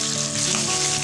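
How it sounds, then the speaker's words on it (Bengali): Marinated Rupchada fish frying in hot oil, a dense, even crackling sizzle that stays close and loud for a brief moment. "আমার তেলটা গরম হয়ে গিয়েছে, আমি এখন মাছটা তেলে দিয়ে দিব ফ্রাই করার জন্য।"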